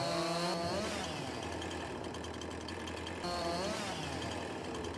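A chainsaw runs steadily on a farm, a loud, close, continuous engine drone with slight rises in pitch as the throttle shifts, filling the whole stretch without a break.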